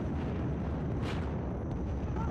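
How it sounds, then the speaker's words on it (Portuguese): A gunshot passes close by in Battlefield 4 on the Operation Locker map, a brief sharp burst against a dense, steady bed of game noise and distant gunfire. "Nossa, passou muito perto o tiro."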